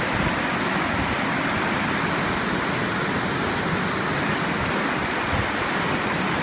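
Brooks Falls on the New River, a ledge waterfall spanning the full width of the river, roars as a loud, steady rush of water close by, broad and unbroken, with no voices.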